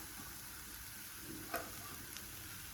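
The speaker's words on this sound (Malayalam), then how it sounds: "നന്നായിട്ട് ഇളക്കി യോജിപ്പിച്ചെടുക്കാം." Grated coconut and curry leaves are stirred into cauliflower thoran in a pan, giving a faint, steady hiss with one brief utensil click midway.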